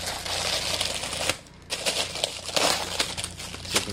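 Foil-faced insulation tape peeled off its roll for sealing wall insulation joints, giving a continuous close crinkly tearing rasp with a brief pause partway, then more sticky ripping bursts.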